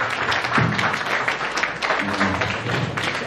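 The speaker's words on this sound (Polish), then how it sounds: "Brawa." Concert audience applauding at a Białystok show, steady dense clapping filling the room for a few seconds with a voice briefly over it.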